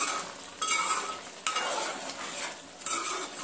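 A spoon scrapes through brinjal, potato, tomato and green chilli curry in a pan in a few distinct stirring strokes, close and clear over a soft sizzle, with no talking.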